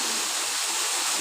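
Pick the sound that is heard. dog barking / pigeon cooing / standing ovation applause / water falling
water falling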